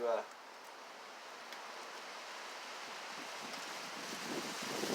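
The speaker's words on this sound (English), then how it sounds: "The wind's blowing." Wind blows steadily outdoors, a loud continuous rush that buffets the microphone from start to finish, swelling slightly toward the end.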